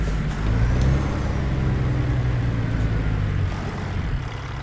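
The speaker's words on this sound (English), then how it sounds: "That truck sounds so cool idling at the stoplight." A big truck engine idles at a stoplight in American Truck Simulator while pulling a regular trailer, a steady low rumble that holds near and even with no voices over it.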